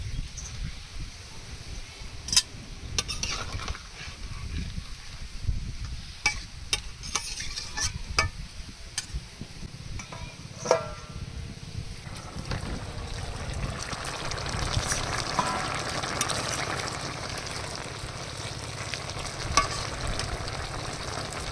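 Cauliflower curry with fried fish sizzling in a pan, a steady frying hiss broken by scattered clinks and scrapes of stirring, the sizzle growing fuller toward the end, close with no talk.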